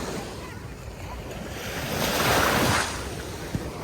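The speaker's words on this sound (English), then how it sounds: "We at the beach." Waves breaking and washing up on a beach, a steady roar of surf that builds to a louder crash in the middle, with wind buffeting the microphone.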